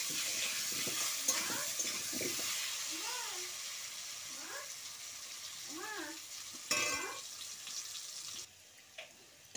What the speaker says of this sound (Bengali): দিয়ে আলুগুলো একটু নেড়ে নেবো।